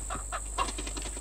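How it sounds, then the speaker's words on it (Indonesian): Chicken clucking in the horror video game Pacify, Chapter 2 set on a farm, soft repeated clucks over a steady background hum, fairly faint and continuous. "Ini ada ayam nih, pukul."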